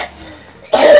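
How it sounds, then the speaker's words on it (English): After a quiet moment, a sick little girl gives a single short, sharp cough close by near the end. "this little lady's had a cough too"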